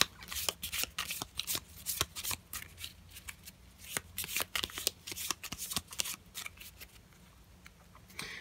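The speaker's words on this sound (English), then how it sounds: "let's go ahead and shuffle our attack modifiers" Gloomhaven attack modifier cards being shuffled by hand at a tabletop, heard close as a quick series of crisp riffling bursts and flicks, repeating in irregular clusters over several seconds with no talking.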